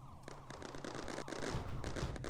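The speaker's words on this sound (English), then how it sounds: "Well, they're shooting me." Units in the factory-building tower-defense game Mindustry fire in a dense, continuous volley of rapid shots that builds slightly louder over a couple of seconds.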